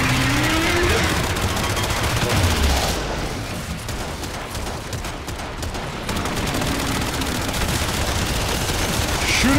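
Continuous dense gunfire from the video game Warframe during Eidolon hunting, loud and steady throughout with a brief thinner stretch in the middle, layered with other game noise.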